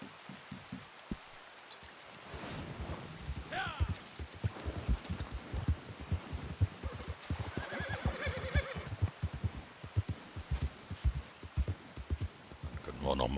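Horse in the video game Red Dead Redemption 2 neighs and whinnies amid clip-clopping hooves and steady rain, the whinnies rising in a couple of clear bursts over the rhythmic hoof thuds.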